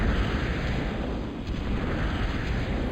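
Heavy blasts and explosions in a real-time strategy game as a commander's D-gun destroys Salamander units on the Crimson Bay map, a loud continuous roar of booming fire with no pauses.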